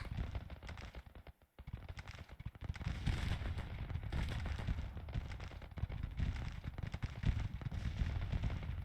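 A Pennsylvania State Militia volley in the Civil War strategy game Grand Tactician rolls out as a continuous, crackling rattle of many musket shots, sustained and fairly distant, with a short lull early on.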